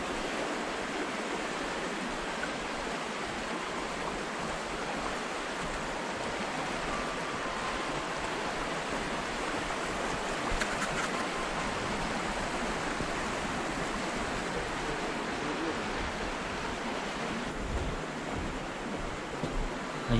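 A steady babbling stream flows continuously outdoors at Lake Yamanaka near Mount Fuji in autumn, a constant broadband rush of running water with no voices, holding an even level throughout.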